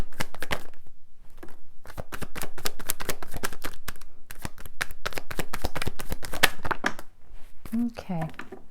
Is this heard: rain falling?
no